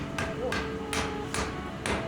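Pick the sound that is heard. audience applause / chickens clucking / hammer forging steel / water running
hammer forging steel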